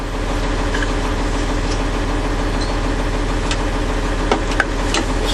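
A truck engine idles steadily and loudly close by during an air brake test, building air pressure, a constant rumbling drone with faint clicks and hisses.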